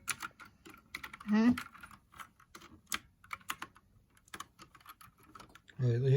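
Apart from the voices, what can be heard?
pressing keys on a HAVIT gaming keyboard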